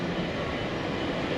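A JR 221 series electric train accelerating away from a quiet station, a steady, dense rumbling drone that holds evenly throughout without any voices.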